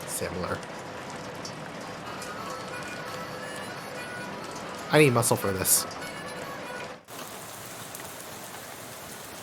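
Steady rain falling in the video game Shadows Over Loathing, a constant dense patter throughout, with a voice talking over it partway through and a brief louder burst of game sounds near the middle.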